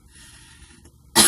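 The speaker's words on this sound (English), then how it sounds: "They give me a dry cough" A single dry cough bursts out abruptly at the end, loud and close, after a stretch of quiet background hiss, from a person who says certain cigarettes bring it on.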